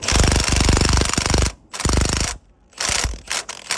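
An impact gun on a low setting hammers a nut tight while installing lowering springs on a 2015-2022 Ford Mustang. It makes loud, rapid rattling bursts, close by, broken by short pauses.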